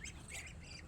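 Ducks squawk and quack in a short, close burst just before feeding, harsh nasal calls overlapping over a faint background.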